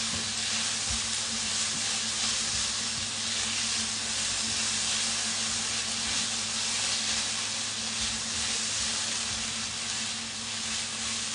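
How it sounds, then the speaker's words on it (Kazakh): Potatoes and onions fry in a pan, a steady bright sizzle and hiss holding evenly throughout with a low constant hum beneath, close and continuous. "Пока что картошкамен пиязды қуырып жатырмын"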